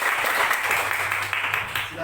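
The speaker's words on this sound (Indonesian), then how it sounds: "Berikan tepuk tangan untuk Tuhan." Brief burst of congregational applause during a church sermon, dense clapping with voices mixed in over it.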